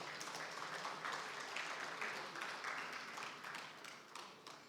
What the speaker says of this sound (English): If we want to clap, please let us clap.